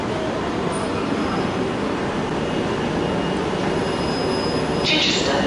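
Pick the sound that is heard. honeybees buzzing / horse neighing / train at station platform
train at station platform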